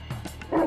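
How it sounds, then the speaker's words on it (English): Mastiffs, a large ancient breed, let out a few deep, gruff barks and woofs in quick succession, close by, ending in a louder, longer bark. "These are mastiffs."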